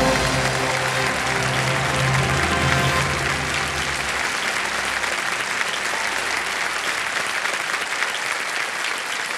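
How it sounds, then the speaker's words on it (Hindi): A studio audience on an Indian TV quiz show breaks into loud, sustained applause for a correct answer, dense clapping filling the room with a brief low musical tone underneath at the start. "अब बजाइए ताली, बिल्कुल सही जवाब है"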